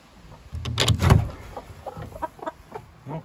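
Broody hens sitting in nesting boxes cluck in a short burst of close, throaty calls that fade into scattered softer clucks and rustling.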